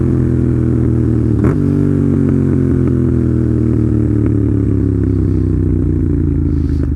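A motorcycle engine revs while rev matching a downshift into 3rd gear, holding around 5,000 RPM at about 48 mph; a loud, steady close-up engine drone with harmonic tones that dip slightly after a brief blip.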